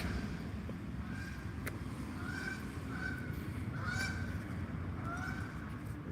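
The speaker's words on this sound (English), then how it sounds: "You hear the geese flying overhead." Several geese flying overhead honk in scattered calls, somewhat distant, over a steady low rumble of wind or traffic.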